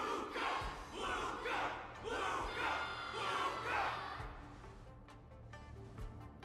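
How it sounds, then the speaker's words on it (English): A crowd in Honkai: Star Rail cheers and roars in rhythmic swelling waves, loud and sustained, then thins toward the end with scattered sounds. "Can't you hear? Everyone's cheering for you"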